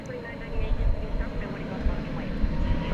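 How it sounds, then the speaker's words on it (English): A United airliner near the runway at DFW Airport gives off a steady, broad jet engine roar that swells slightly and rumbles low, with a voice talking over it. "the United flight, which got waylaid here from Newark to Sacramento, is now getting ready to take off"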